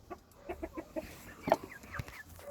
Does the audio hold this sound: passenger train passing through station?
no